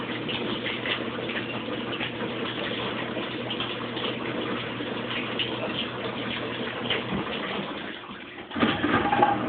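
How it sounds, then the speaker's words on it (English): Kenmore Oasis washing machine filling with rinse water, a steady gushing flow of water into the drum with faint ticking, continuous and fairly close, ending in a brief louder burst. "Sounds like a little rinse water."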